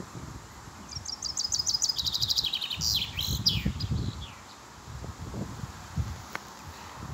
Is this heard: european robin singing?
yes